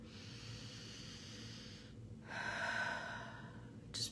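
Deep breathing during a quiet guided meditation: a slow, airy breath that swells and fades, followed by a soft inhale and a short sharp sniff at the end, close and alone without talk.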